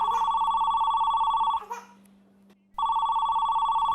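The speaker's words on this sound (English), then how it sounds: "Isn't anyone going to get the phone?" A telephone rings loudly and steadily with a trilling electronic bell, stopping briefly for a second of near silence before the ring starts again, close and clear.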